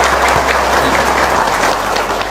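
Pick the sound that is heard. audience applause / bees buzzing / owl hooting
audience applause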